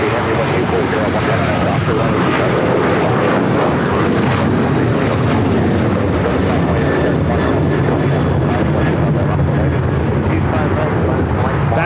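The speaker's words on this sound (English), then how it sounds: "That is American Airlines 1084 taking off to Chicago on the 737-800." An American Airlines Boeing 737-800 takes off from LAX runway 25 right, its engine roar a loud, steady broadband rumble throughout, with a voice talking over it.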